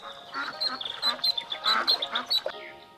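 A duck in a toy farm diorama quacks in a fast, repeated series of bright nasal calls, fairly close and loud, with short gaps, fading out at the end.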